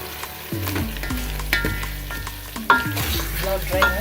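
Pork pieces frying in a pan as they dry up, a steady close sizzle broken by repeated stirring scrapes and clinks, with no talking.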